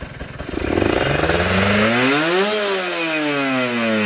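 A motorcycle engine fitted with a PWK 30 carburetor revs up from a steady low idle to a peak and then settles back to a lower, even drone, loud and close.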